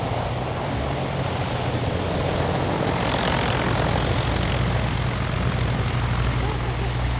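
A US Navy MH-53E Sea Dragon helicopter at an airshow in London gives a continuous, loud, heavy roar of rotors and turbine engines that fills the whole clip, with an announcer speaking beneath it.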